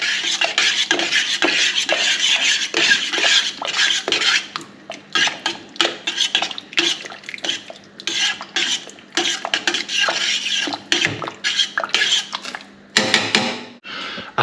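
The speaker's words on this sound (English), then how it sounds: "I'm even going to add some chopped tomatoes to that. Stir that in as well." Chopped tomatoes being stirred into spaghetti bolognese in a pot, with repeated loud scraping and rasping spoon strokes against the pan in an uneven rhythm, close and without talk.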